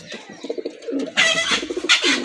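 Pigeons of fancy breeds such as Madrazi Golla, Gorra and Raj Golla coo close by in soft, repeated low murmurs, with a brief flurry of rustling or wing flaps partway through.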